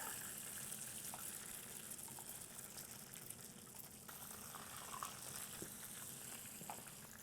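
Crab relleno, a stuffed crab and egg patty with cabbage, frying in oil in a pan, giving a steady close sizzle and crackle throughout with no talk.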